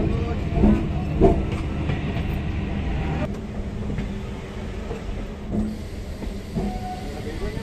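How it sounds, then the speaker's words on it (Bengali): A train pulls into platform 4 at Sealdah station in Kolkata, giving a steady low rumble with faint clattering and a few soft knocks amid station ambience. "ট্রেন এসে ঢুকেছে 4 নম্বর প্ল্যাটফর্মে"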